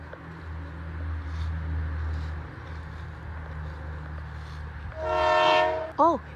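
A distant train horn from a track a couple of blocks away sounds once, a brief blast over steady low outdoor rumble, followed by a short sound at the end.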